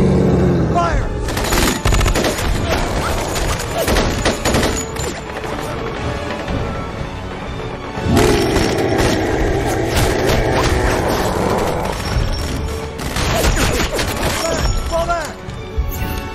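Squad gunfire in a sci-fi action film: dense bursts of automatic and rapid shots with crashing, shattering impacts, loud and continuous across the scene with a brief lull midway, mixed with score and effects.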